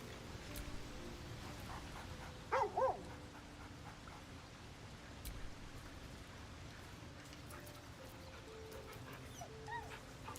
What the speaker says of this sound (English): Ah, oh, there's the dog.